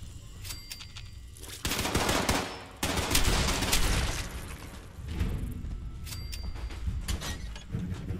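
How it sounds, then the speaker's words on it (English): Gunfire in the game Fallout 76, including a shotgun fired at a rat roach, with several loud, booming blasts and rattling bursts close up amid in-game mechanical noise, no talk. "Kind of a waste of a shotgun shell on a rat roach"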